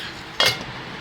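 A single short clink of a spoon against a pot while kathamba sambar is stirred, one brief bright metallic knock standing alone over quiet kitchen background.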